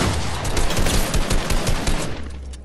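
Rapid gunfire in a box fight video game, a dense, loud burst of overlapping shots that runs steadily and then tails off, with no talking.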